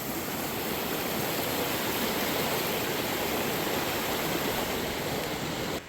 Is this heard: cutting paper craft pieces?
no